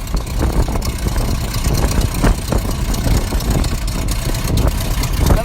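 A cold 1943 Boeing biplane engine idles slowly at about 500 RPM during its first minute after starting, a steady, loud low rumble with uneven knocking pulses throughout and no talk.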